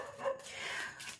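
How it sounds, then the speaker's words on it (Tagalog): Dogs barking nearby indoors, a short burst of muffled yips and barks heard briefly. "pasensya na po sa mga aso"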